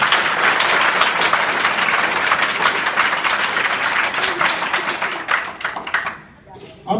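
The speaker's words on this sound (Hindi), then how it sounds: "वेरी गुड, ताली बजाओ।" Schoolchildren at a village middle school in Azamgarh applaud together, dense rapid clapping that holds steady for about six seconds and then tapers off abruptly.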